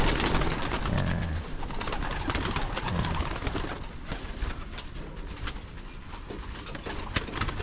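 Pigeons coo steadily inside a wooden loft, a soft, continuous layered murmur of several birds close by, with faint rustling and no talk.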